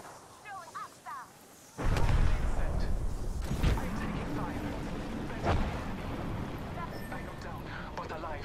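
A video game grenade blast bursts loudly in near-field, its deep roar rolling and decaying over several seconds with further crackling booms, following brief quieter sounds at the start.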